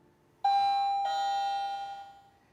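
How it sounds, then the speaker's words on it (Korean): The doorbell on a baby box rings a clear two-note ding-dong. The first chime strikes and the second follows about half a second later, then both ring out and slowly fade in a quiet room with no talking. "벨 소리가 딩동 딩동 나죠"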